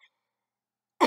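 One short, sudden cough near the end of otherwise near-silent indoor quiet, close to the microphone.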